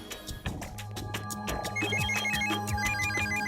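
An incoming call's ringtone plays loudly and steadily in a Telugu family drama film, a repeating electronic melody of short bright notes over a sustained tone, with no voices.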